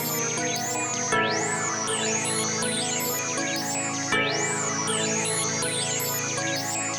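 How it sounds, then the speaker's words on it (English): Tubular bell tones in an FL Studio beat ring out two alternating notes that shift up a semitone with the chord change, sitting over a looping string pattern and steady rhythm, loud and continuous throughout. "And you know I had to add the tubular bell."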